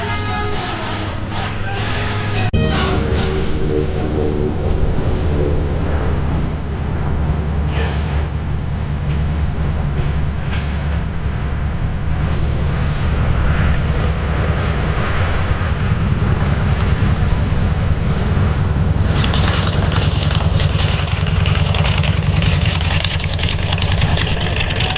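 Several TBM Avenger radial-engine aircraft after a formation flight give a loud, steady, low engine drone that fills the whole stretch without letup, rough and throbbing like heavy radials.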